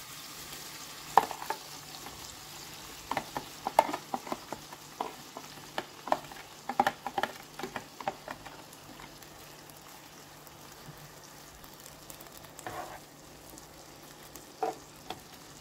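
Shrimp frying in a pan with ginger, garlic and a small sweet pepper, a soft constant sizzle broken by scattered clicks and stirring scrapes, fairly quiet and with no talking.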